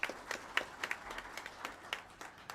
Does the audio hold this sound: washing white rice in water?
no